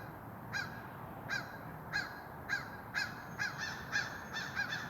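Crows caw repeatedly in a steady series of sharp calls, moderately distant and outdoors, with no talking.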